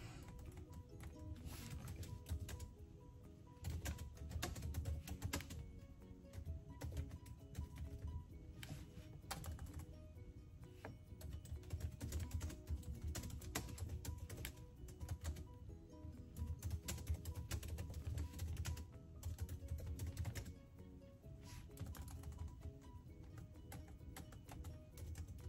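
Rapid, continuous typing on a computer keyboard fills the whole stretch, a steady close clatter of keys with no voices over it.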